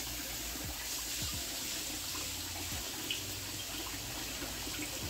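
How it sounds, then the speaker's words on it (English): Tap water runs in a steady, faint stream as it fills a toy water gun, with a continuous hiss and trickle and no voices over it. "You had to put water in here."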